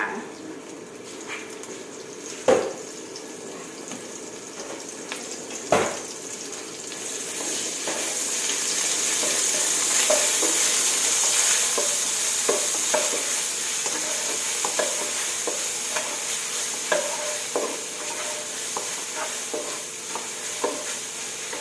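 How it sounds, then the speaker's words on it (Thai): Shrimp paste is stir-fried in oil in a pan, giving a long, steady sizzle that swells in the middle, with scattered scraping and clinking of a utensil stirring and a couple of sharper knocks early on. "ผัดกะปิให้หอมจ้า"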